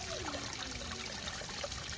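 Water poured for a rescued New Mexican whiptail lizard makes a soft, steady trickle that runs without pause and sits low against background hiss, with no voices.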